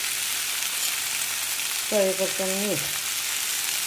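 Potatoes and okra fry in a pan with coriander powder, cumin powder, garam masala and red chili powder, giving a close, steady sizzle while a voice speaks briefly over it.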